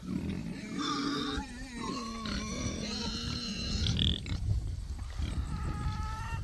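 Pigs grunt and squeal nearby, a steady stream of overlapping snorts and high oinks over a busy outdoor background.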